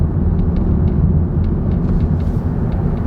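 A 2023 Nissan Ariya electric SUV rolls over road bumps: a loud, constant low cabin rumble with faint, soft thumps recurring underneath, and no talking.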